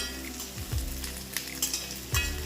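Onions sizzling in hot oil with pork in a pan, a steady frying hiss with a few clinks and stirring scrapes, fairly quiet and close with no voices.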